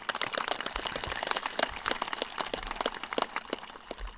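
Applause from a graduating class and audience at a high school commencement ceremony, a dense patter of many hands clapping at moderate distance with no talking over it.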